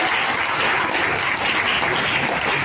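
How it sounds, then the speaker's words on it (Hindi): A church congregation applauds to welcome a guest, a dense, continuous burst of many hands clapping close and loud without pause. "तालियों की बौछारें को दीजिए।"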